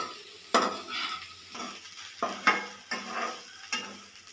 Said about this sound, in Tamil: இதை நல்லா கிளறிக்கலாம்.